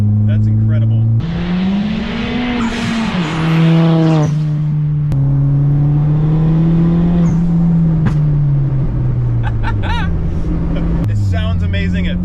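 Turbocharged Ford Fiesta ST making about 320 hp at 28 psi of boost, its engine loud and close as it revs and shifts through a hard pull, with tire noise beneath and people talking over it.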